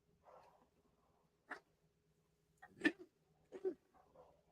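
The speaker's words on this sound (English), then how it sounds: "the dogs are barking, baby" A few sharp, isolated dog barks, fairly quiet and spaced apart, with soft yelps between them in an otherwise still room.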